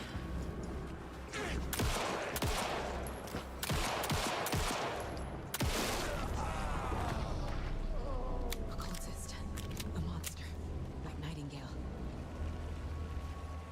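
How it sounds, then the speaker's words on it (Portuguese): Bursts of rapid video game gunfire, several volleys of automatic shots with sharp transients, mixed with game effects and background noise. "Teve que dar muito tiro."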